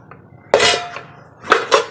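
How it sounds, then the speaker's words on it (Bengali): Kadai pots and pans being washed: metal cookware clanks sharply once, then quieter scraping and two more quick knocks, close by with no talk. "এই দেখো কড়াই টড়াইগুলো সব ধুই"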